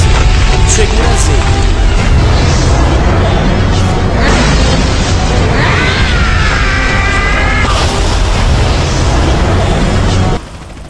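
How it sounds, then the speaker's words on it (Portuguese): Explosion from a Susanoo jutsu mod in the video game GTA San Andreas: a sustained roaring, crackling blast with a rising whistling tone midway, loud and dense, cutting off abruptly at the end. "uma explosão onde vai explodir tudo que tiver perto"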